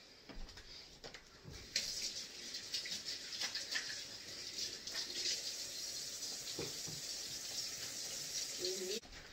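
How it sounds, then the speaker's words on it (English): Water runs steadily from a tap for several seconds, splashing as hands are rinsed beneath it, with a few soft clunks near the end. "So I'm going to wash my hands again"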